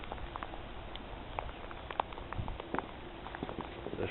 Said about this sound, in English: Freezing rain coming down.